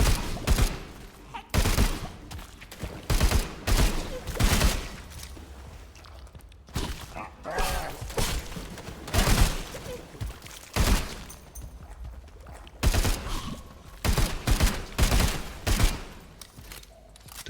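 A gun fires repeatedly in the video game Sulfur, set in sewers: rapid bursts of loud shots in short, uneven volleys with brief gaps between them.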